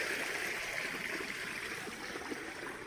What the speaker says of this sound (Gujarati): નાનો એવો વાલ મૂકેલો છે જેટલું આપણે પાણી સાથે જવા દેવું હોય એટલા પ્રમાણમાં